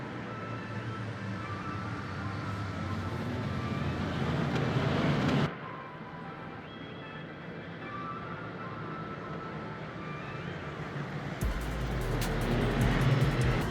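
Simulated LMP3 prototype race car engine at Monza in the sim racing game Le Mans Ultimate, a steady loud drone that drops abruptly in pitch partway through, then swells again near the end.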